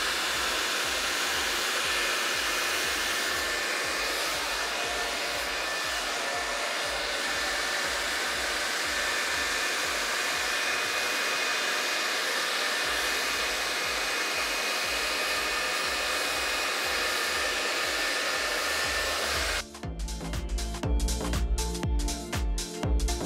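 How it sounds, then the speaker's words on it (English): A T3 Airebrush Duo hot air brush runs steadily on its highest heat and fan settings, a loud continuous blowing whoosh that holds for about twenty seconds before shifting into a choppier, fluttering airflow near the end. "I am going to put it up to the highest heat setting as well as the highest fan setting"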